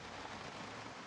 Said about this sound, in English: Rain is not helping, though.